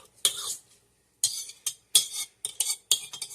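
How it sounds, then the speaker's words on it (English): A utensil stirs yeast into a mixture for doughnut dough, giving several short scraping clinks against a bowl in separate bursts with quiet gaps between them. "And then that's 1 pack of the yeast. Stir it around just a little bit."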